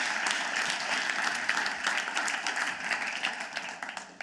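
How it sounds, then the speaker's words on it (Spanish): Church congregation applauding during a Spanish-language service, dense sustained clapping from many hands filling the room, loud and continuous. "Le da ese aplauso al Señor."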